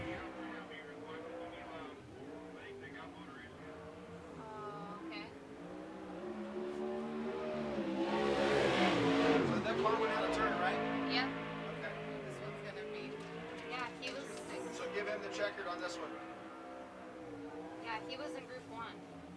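A USAC Southwest race car running a single qualifying lap at Central Arizona Speedway, its engine drone swelling loudly as it passes close by then fading back to a distant whine, beneath continuous announcer commentary.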